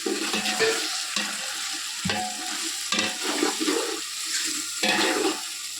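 Green chillies frying in a large pan, a continuous loud sizzle broken by periodic scraping and tossing as they are stirred, with no speech.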